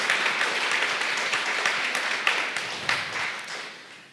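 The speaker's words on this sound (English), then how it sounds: "A round of applause." An audience applauds, a dense steady patter of many hands clapping with occasional louder claps, fading slightly toward the end.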